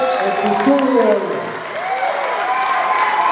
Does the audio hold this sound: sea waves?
no